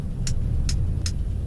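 A VL10 electric locomotive in the Trans-Siberian Railway Simulator game brakes and slows with no wagons attached, giving a steady low rumble broken by three short, sharp hissing bursts.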